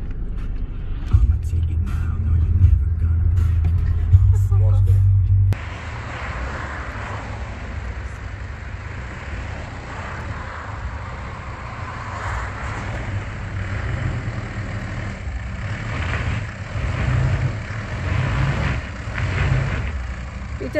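A 2018 Mitsubishi Pajero in four-wheel drive climbs an off-road track, its engine droning loudly and steadily with rumbling low-end strain, after a brief opening of louder clattering noise.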